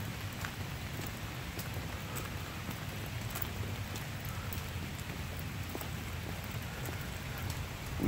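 Steady rain falls during a summer solstice sunrise rainstorm hike with shepherds, an even, continuous patter of raindrops on surfaces with scattered close drips and no talking.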